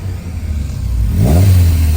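A Honda B18C5 B-Series engine with aftermarket exhaust revs up loudly from idle, the note climbing sharply near the end, close and alone.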